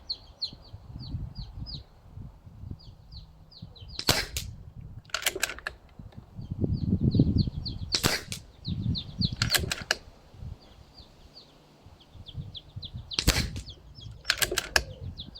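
A Hatsan Galatian PCP air rifle fires at a target, several sharp close cracks spaced a few seconds apart, with birds chirping steadily in the background.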